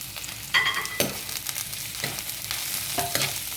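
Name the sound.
cabbage being sautéed in a pan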